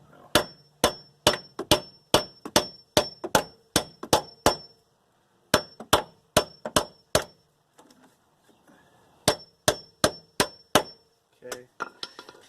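A hammer strikes metal on a car's suspension during a lowering spring install, landing sharp ringing clangs in quick bursts of several evenly spaced blows with short pauses between the groups.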